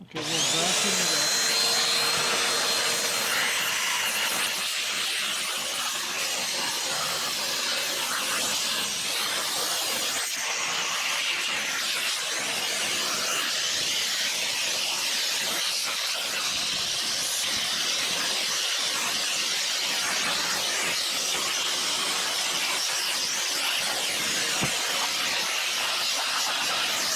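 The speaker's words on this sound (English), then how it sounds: "I'll just vacuum out the hole." A vacuum cleaner sucks debris from a hole in a Craftsman lawn tractor wheel fitted with concrete wheel weights, giving a loud, steady hissing roar that runs unbroken from start to finish.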